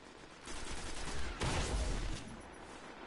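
Shotgun fire in the video game Destiny during an online match: a dense, noisy blast swells to a loud, booming peak midway, then fades into background battle noise.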